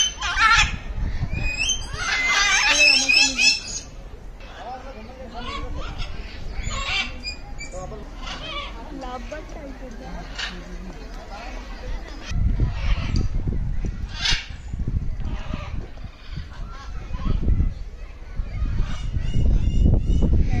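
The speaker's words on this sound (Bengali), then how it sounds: "খুব সুন্দর এবং শান্ত পরিবেশে পাখিদের ডাক শুনতে খুবই ভালো লাগছিল" Macaws and other birds call in an eco park aviary, with harsh squawks and honking cries repeating near and loud, overlapping with lower-pitched calls and background chatter.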